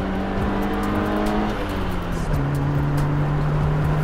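Honda Civic EG hatchback with a manual gearbox accelerating hard in second gear, engine note climbing steadily and loud from inside the cabin, with a brief dip and then a continued strong pull.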